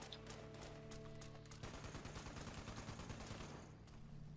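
In the video game Fallout 76, a Gatling gun fires a rapid, sustained stream of rounds for the whole stretch, a steady rattling volley heard faintly at a distance.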